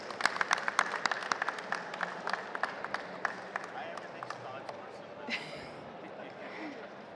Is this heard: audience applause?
yes